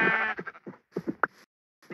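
Blocky Minecraft sheep bleat in a quick run of short, wavering baas, several in succession and fairly close, then briefly go quiet before another starts.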